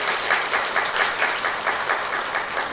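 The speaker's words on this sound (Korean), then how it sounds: "여러분들 격려의 박수 하시기 바랍니다" A church congregation at Gungpyeong Methodist Church's Sunday morning service applauds a young soldier, a steady, even wash of many hands clapping with no voices over it.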